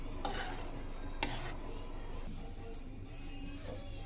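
A spoon scrapes and stirs turmeric into lemon rice paste in a pot, two sharp clinks against the metal standing out over a steady low sizzle.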